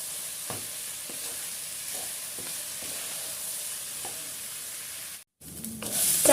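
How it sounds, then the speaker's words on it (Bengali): Rice for bhuna khichuri fries in a hot pan with a steady, close sizzle, broken by regular scraping stirs of a spoon and a brief drop-out near the end. "চালটিকে ভালো মতো ভেজে নিতে হবে"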